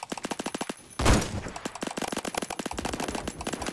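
Rapid automatic rifle fire in the Roblox shooter Phantom Forces, fast evenly spaced shots in bursts around a single loud blast, close and dominant with no talk.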